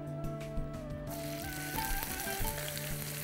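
Onion frying in a mix of oil and ghee makes a continuous crackling sizzle in a pan, moderately loud and close, with no talking.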